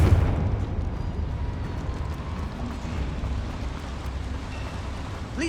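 A Confringo spell explodes in Hogwarts Legacy with a brief low burst at the start, followed by a sustained rumbling, crackling wash that slowly fades.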